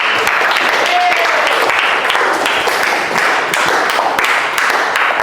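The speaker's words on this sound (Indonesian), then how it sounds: "Tepuk tangan sekali lagi buat kita semua." Steady applause from a crowd, dense clapping filling the whole stretch at a loud, even level.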